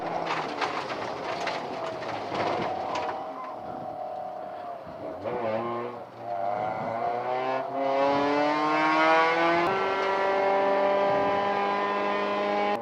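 A race car engine at an amateur endurance event rises in pitch as it accelerates along the track, the tone dipping and climbing again through the gears, heard loud and steady from inside the car.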